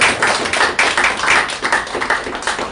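Audience clapping at a Korean party meeting, a dense burst of many hands with uneven peaks, fairly close and loud, no talk over it.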